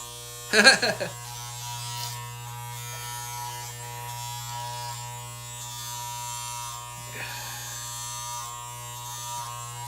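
Electric hair clippers give a steady, close, low buzz that runs unbroken throughout. A short burst of louder sound comes near the start.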